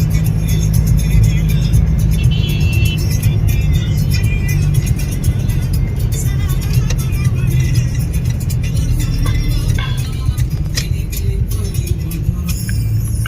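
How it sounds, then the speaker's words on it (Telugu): Dense city road traffic with cars and buses roars continuously and loudly close by, with steady engine rumble and occasional revving, and no voices standing out. "ట్రాఫిక్ హెవీగా ఉంది."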